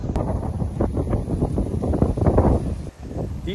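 Strong coastal wind at Ocracoke Island Lighthouse, North Carolina, buffets the microphone in a continuous rumbling roar, gusting unevenly and briefly easing near the end.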